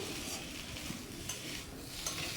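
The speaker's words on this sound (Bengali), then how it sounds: "নুন হলুদ দিয়ে ভালো করে আমি নেড়ে ছেড়ে ভেজে নিচ্ছি" Pumpkin and potato with salt and turmeric fry in a pan while being stirred, a soft continuous sizzle with faint scraping, low and steady.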